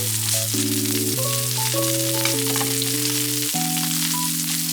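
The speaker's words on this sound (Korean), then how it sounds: "팬에 엑스트라 버진 올리브유 두르고 마늘 타지 않게 볶아주세요." Sliced garlic fries in extra virgin olive oil in a pan, a soft continuous sizzle held under steady, louder background music for the whole stretch.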